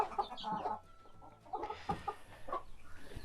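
Ducklings and their mother duck give soft, close clucking calls and peeps in short scattered bursts, fairly faint against a quiet background.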